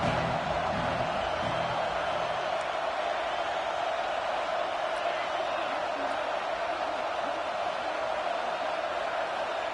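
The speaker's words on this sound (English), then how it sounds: "This crowd bringing the energy and noise early." A dense, steady roar of a large football stadium crowd on a third down, loud and continuous, with scattered voices blending into the wash of noise.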